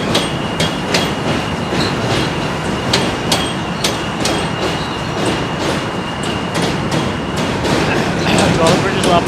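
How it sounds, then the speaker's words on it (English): A New York City subway M train passes, loud and close, with a steady rumbling roar and rhythmic clickety-clack of wheels over rail joints lasting throughout. "Another train coming. This time it's the M train."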